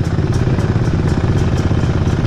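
A Beta 125 dirt bike fitted with a Yamaha WR engine running steadily, a loud, close, low throbbing drone with a faint regular ticking.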